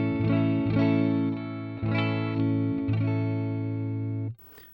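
Clean electric guitar on the neck pickup, run through a Joyo R-07 Aquarius delay pedal with the effect off: several strummed chords ring out warm and sustained, close and loud, then cut off abruptly near the end.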